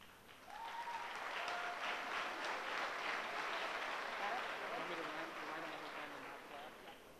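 Sustained applause from an audience at a 2015 middle school 8th grade promotion ceremony, a steady dense wash of many hands clapping that swells in and holds at even loudness throughout.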